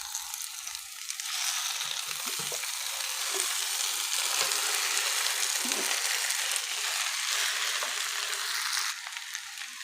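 Potatoes tumble into a pan of frying onions and carrots, setting off a steady, fairly loud sizzle that swells after the first second and holds broadly until near the end, with no talking.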